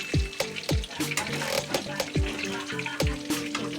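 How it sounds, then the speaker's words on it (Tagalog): Tilapia frying in hot oil, a steady sizzle and crackle with sharp pops and clatters of utensils or fish being turned, fairly close, with no talk. "tapos na po tayo mag-prito ng tilapia"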